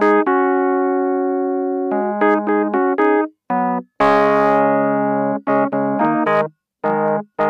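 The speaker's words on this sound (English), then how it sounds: "Wurlitzer electric piano sounds like this." A Wurlitzer electric piano plays sustained chords and short stabbed notes with clear bell-like tones, some held for a couple of seconds and others clipped, separated by brief silences.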